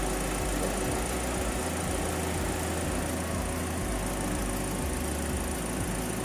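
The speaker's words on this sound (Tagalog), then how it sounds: "So that's engine noise or engine sound, engine behavior with AC on." A Toyota Rush engine idles with the AC compressor engaged and the electric auxiliary fan running, giving a steady, close, even drone with a low rumbling pulse and fan hiss throughout, with no voices.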